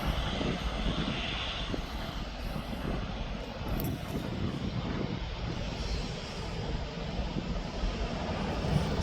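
Aircraft engines roar steadily at Birmingham airport as jets arrive and depart, a broad, continuous rumble heard from a distance with no gaps.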